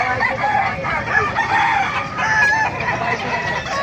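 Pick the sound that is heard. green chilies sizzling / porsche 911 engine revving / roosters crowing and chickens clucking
roosters crowing and chickens clucking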